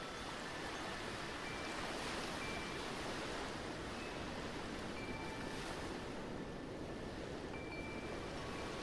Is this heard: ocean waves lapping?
yes